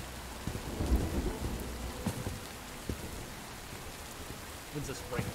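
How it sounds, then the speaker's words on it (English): Steady rain hisses through a thunderstorm in the video game Bright Memory: Infinite, with a deep rumble of thunder near the start and a few softer rolls later, all continuous and fairly close. "When's this rain gonna stop?"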